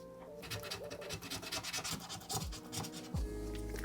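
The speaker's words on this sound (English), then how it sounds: "We wanna use a clean X-Acto blade, one that doesn't scratch" Scraping of a clean X-Acto blade across a MacBook Pro A1990 part, a steady dry rubbing rasp with repeated short strokes, close and fairly quiet, with no talking.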